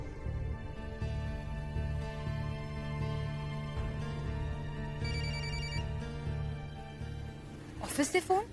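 A telephone rings repeatedly in a steady electronic pattern over a low background hum, with a brief burst of voice near the end.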